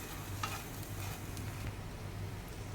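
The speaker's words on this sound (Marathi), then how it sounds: "आता हे मी एकदा व्यवस्थित परतवून घेते" Masala frying in oil in a pan for Maharashtrian chicken rassa, a continuous close sizzle with soft stirring scrapes and no voices.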